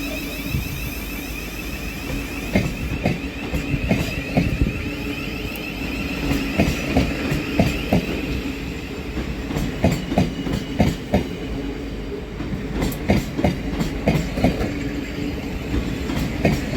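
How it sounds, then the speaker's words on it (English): A Thameslink Class 700 electric train pulls out of a station, its wheels beating a steady clickety-clack over rail joints beneath a continuous mechanical hum, loud and close throughout. "So there goes 700-051 heading out on the 1429 Thameslink service"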